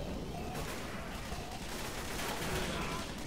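Dense, continuous rattle of gunfire in the zombie shooter Left 4 Dead 2, a steady wash of overlapping shots at even loudness throughout.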